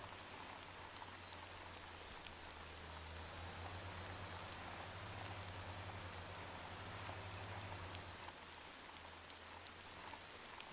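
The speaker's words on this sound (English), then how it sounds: "time to start raining." Rain falling in the Motortown driving game near a logging area, a steady hiss of drops with a low engine hum underneath, even and continuous at low volume with no talking.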